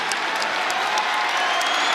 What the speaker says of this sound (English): It's a tremendous crowd inside Reynolds Coliseum, trying to urge Jack on as he goes in for his shot.